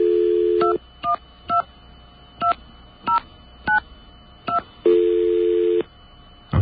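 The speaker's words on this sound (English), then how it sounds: "I'll dial slower this time" Touch-tone telephone keypad dialed slowly on a phone line: eight or so separate two-tone DTMF beeps spaced roughly half a second apart, two of them held noticeably longer, clear and close with no talking.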